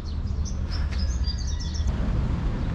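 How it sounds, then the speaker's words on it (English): Small bird chirping in a garden in Cebu, Philippines, several quick high tweets over a steady background hum, fairly faint and without voices. "Oh, there's a bird."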